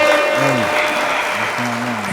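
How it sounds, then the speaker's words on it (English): Crowd applause and cheering at a live podcast taping, a loud continuous wash of clapping close by with voices whooping over it. "the crowd goes wild"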